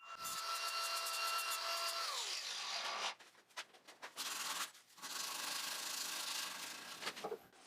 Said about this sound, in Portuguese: usei um acessório de lixa na esmerilhadeira para limpar as bordas